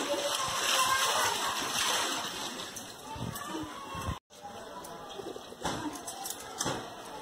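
Holi-coloured clothes are washed by hand in water: sloshing and splashing runs throughout, fairly close, with a brief gap partway through and a voice talking over it.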